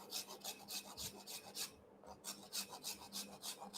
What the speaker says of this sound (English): inside edge of the slabs and scraping it at an angle so we can have the neighboring panels stick to each other.